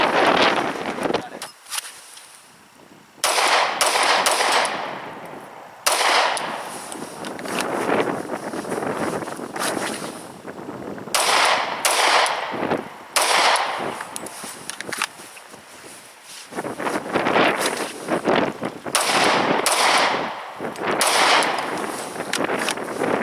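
A Glock 22 Gen 2 pistol fires shooting drills outdoors with 180 grain factory ammunition, sharp loud reports in spaced bursts amid wind buffeting on the microphone.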